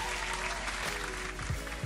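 Hands clap in a steady burst of applause-like patter on a sports call-in talk show, filling the whole short moment with no clear voice over it.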